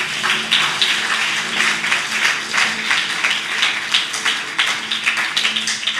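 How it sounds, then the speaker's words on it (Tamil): A church congregation claps hands together, a loud, dense and steady burst of many overlapping claps with a roughly rhythmic pulse, sustained throughout without speech. "கை தட்ட மாட்டீங்களே?"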